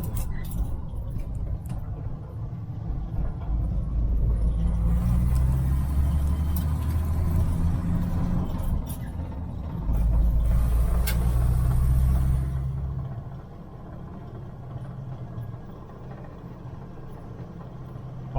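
A Jeep CJ-7 engine fitted with a Weber 32/36 carburetor rumbles low and close, swelling in two throttle pushes before settling back to a quieter idle, with some rattling in the cab.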